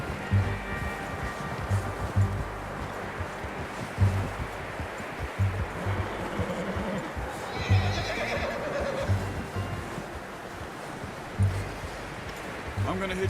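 A horse in the Red Dead Redemption 2 video game whinnies and snorts, its hooves clopping in an uneven rhythm close by, with a soft wash of outdoor ambience behind.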